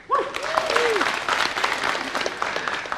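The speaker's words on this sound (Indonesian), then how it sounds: "Sebelumnya, saya minta aplaus dulu untuk Ipan Nestorman dan grup vokalis East V" A studio audience at the Indonesia Lawyers Club talk show breaks into sustained clapping, a dense wash of applause with a few cheers and whistles near the start, steady throughout.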